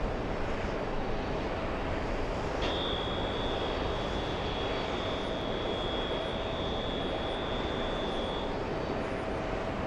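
Air India jet taking off from runway at JFK airport, a steady broadband engine roar held loud and even throughout, with a thin tonal whine appearing partway and sustaining; no talk.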